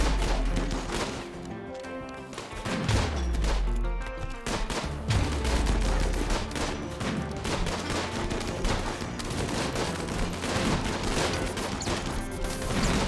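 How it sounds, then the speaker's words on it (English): Rapid volleys of rocket fire and gunfire in RimWorld, a dense, continuous barrage of crackling bursts and thuds with no pauses, loud throughout. "There goes the rockets, yeah."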